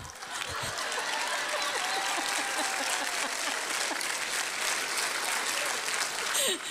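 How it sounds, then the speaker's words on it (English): Audience applause fills a talk hall at a faith conference, a steady dense wash of many hands clapping that holds for several seconds, with faint murmurs and scattered voices mixed underneath. "Clap your hands if you think Tammy dressed him."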